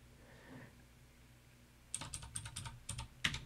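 Fingers type a mkdir command on a computer keyboard at a command line, producing a quick run of crisp key clicks that starts partway through after a quiet lead-in, with a louder final keystroke.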